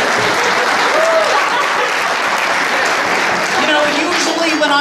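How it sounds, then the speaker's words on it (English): Audience at a live touring event breaking into loud, sustained applause, a thick continuous roar of clapping with cheering voices mixed in throughout. "people erupt with thunderous applause"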